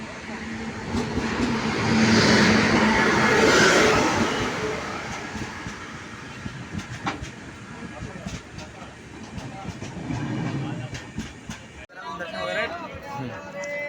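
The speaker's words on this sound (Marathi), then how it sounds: "गाडी आपली आता आलेली आहे" A train rumbles and clatters into the station at Ratnagiri, loud at first then easing, with people talking nearby amid the rolling rail noise.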